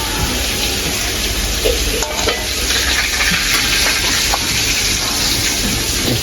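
Chicken fries in oil in a pan for a biryani, a loud, dense, steady sizzle with rough spattering texture heard close up and without speech.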